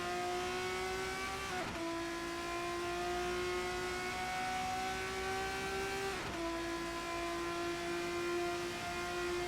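An F3 race car in a racing video game at Imola accelerates flat out, its engine note climbing steadily through two upshifts with brief dips, loud and continuous throughout.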